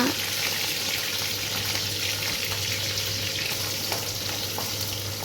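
Chopped onion for rava upma sautéing in a hot pan, a continuous close sizzle with light stirring scrapes, steady and fairly quiet with no talking.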